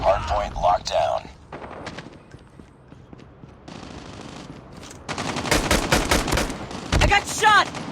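Bursts of rapid gunfire from the Call of Duty Mobile video game in a Hardpoint match, several loud volleys crackling over a low rumble, with brief game voice lines and a pause of quieter ambience in between.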